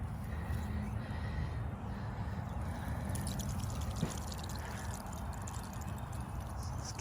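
Water gushing from a drip irrigation line in a raised garden bed, a steady broadband rush that continues throughout, with faint bird calls in the background.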